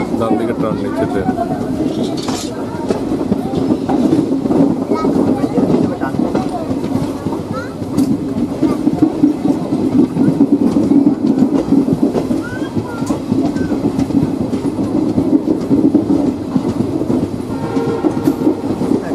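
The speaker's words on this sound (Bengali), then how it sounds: "ডান দিকে টার্ন নিচ্ছে ট্রেন।" A train on the Siliguri to New Mal Junction line rolls along steadily for the whole stretch, with a constant loud rumble of wheels and carriages and a faint clickety-clack, heard from on board with voices in the background.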